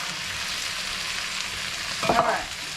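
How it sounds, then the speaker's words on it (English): Tomato pasta sauce with diced tomatoes spatters in a hot pan, a steady broad hiss of frying throughout that flares into a louder, brighter burst of sizzling near the end, with no voices. "the sauce will spatter once I put it in there if the heat's up too high"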